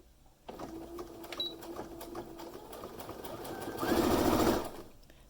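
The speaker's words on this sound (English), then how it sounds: "sew the long edges together now, and you're going to pull this as you sew" Home sewing machine stitching the long edges of a fabric scrunchie, a close, steady motor whir that swells louder near the end of the run.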